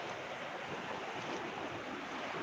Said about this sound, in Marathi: बघा नदीला पाणी कसं आलेलं आहे